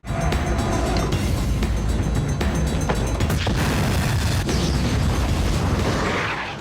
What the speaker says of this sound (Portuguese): dá uns tiros, a bomba explode e ele morre